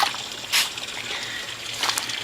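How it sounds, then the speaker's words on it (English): Sand is dropped into water to make mud, giving soft trickling and dribbling with two brief splashy bursts against a quiet background. "Take a little bit of sand and I put it into my water."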